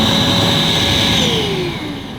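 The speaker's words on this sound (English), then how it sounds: "You just press it once to start the machine" A Vax Blade 32V Ultra cordless vacuum cleaner runs with a loud, steady, close motor whine and airflow rush, dipping slightly in pitch and level near the end, with no talking.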